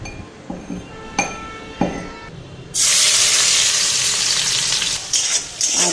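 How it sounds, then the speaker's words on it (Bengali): Garlic hits hot oil and erupts into a loud, steady sizzle after a few clinks of a utensil against the pan, the frying continuing close and unbroken. "রসুনটা ফ্রাই করে নিই"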